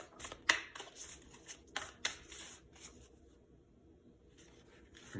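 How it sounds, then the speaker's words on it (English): Moonology oracle cards are shuffled and drawn from a deck, giving a quick run of soft papery flicks and riffles close by, then a quieter stretch with faint card handling. "So first, we're going to draw 2 Moonology cards."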